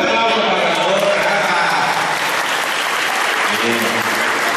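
Sustained applause from a crowd at a children's day celebration held by Mexico's SUEM emergency service, loud and steady throughout with some voices mixed in.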